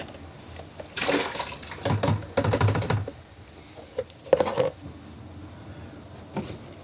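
Paint rinse water for watercolor painting is poured out and refilled, with bursts of splashing and sloshing near at hand, then pauses and lighter clinks and taps.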